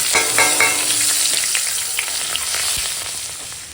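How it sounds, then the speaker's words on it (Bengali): Whole cumin, green chilli and bay leaf frying in hot oil as a tempering: a bright, continuous sizzle close by, with faint stirring scrapes and small crackles. "ফোড়নে দিচ্ছি গোটা জিরে কাঁচা লঙ্কা আর তেজপাতা"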